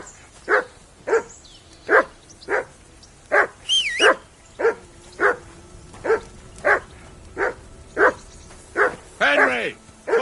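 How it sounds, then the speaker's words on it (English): A dog in Kingdom Come Deliverance 2 barks in a steady rhythm, about a dozen sharp, loud, close woofs spaced roughly half a second apart, with a short whine and yelps near the end. "call that dog to heel"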